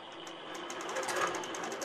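An Innova AutoPilot longarm quilting machine stitches steadily through an edge-to-edge pass, giving a continuous close mechanical hum with a fast, even rhythmic clatter.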